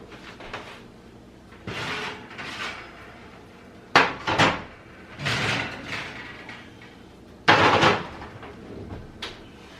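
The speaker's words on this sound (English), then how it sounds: "Time to take them out of the oven." Molasses cookies pulled from a home oven: a few sharp metallic bangs and scrapes of a baking sheet and oven door at about four and eight seconds, among softer handling clatters, fairly close.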